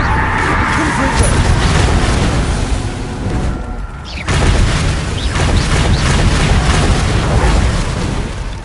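A Confringo blasting spell goes off in Hogwarts Legacy as a loud, rumbling burst within a dense wash of combat noise, which cuts out briefly before another boom rolls in.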